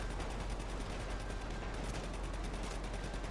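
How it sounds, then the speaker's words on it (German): Dense, rapid bursts of GTA 5 Online gunfire fired from the hip crackle continuously, loud and unbroken, with a flat, synthetic quality. "Schuss aus der Hüfte."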